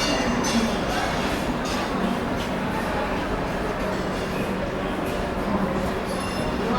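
A train departing an Indian railway station rumbles steadily with a low continuous drone, faint metallic clinks and a bit of distant chatter in the background.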